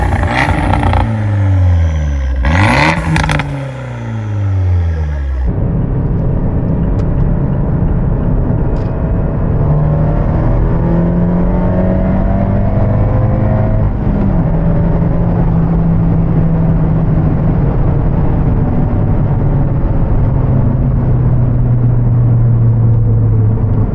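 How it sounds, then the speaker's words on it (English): Abarth 124 Spider with its exhaust valves open, driving: a steady, loud engine drone and exhaust rumble that holds throughout, with a brief revving swell near the start. "this car just sounds amazing with the valves open."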